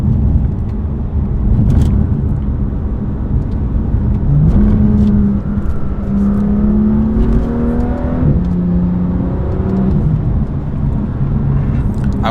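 A BMW M2 with a dual-clutch gearbox downshifts in comfort mode, the engine note stepping up in a few rising rev blips over a steady loud cabin drone, close and without talk.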